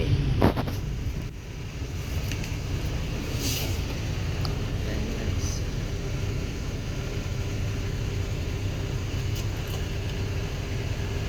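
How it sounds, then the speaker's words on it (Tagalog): Heavy road traffic on EDSA in Cubao, a continuous low rumble of engines heard from inside a vehicle, with a brief clunk near the start and no talking. "sobrang traffic dito sa Cubao sa EDSA"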